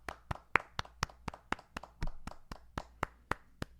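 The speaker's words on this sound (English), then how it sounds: "Let's get a round of applause." A few people clap in slow, evenly spaced single claps on a film podcast, about a dozen sharp distinct hand claps at a steady rhythm, close but quiet with no voices.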